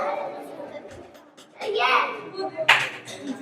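Scattered hand clapping in a coaching classroom honouring a prize-winning student, a few bursts of claps mixed with children's voices and talk.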